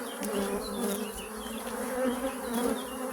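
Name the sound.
honeybee colony buzzing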